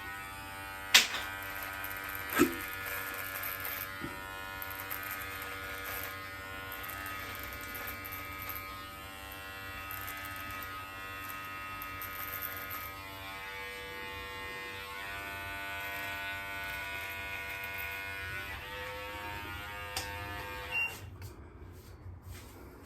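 An electric trimmer buzzes steadily close up while shaving hair near the ear, its whine continuous with a few brief clicks and knocks, and no talking.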